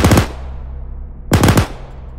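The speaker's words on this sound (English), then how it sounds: "you want me to take a pot shot?" Two sharp rifle pot shots from the video game Arma 3, about a second apart, each a loud crack trailing off into a brief echoing tail.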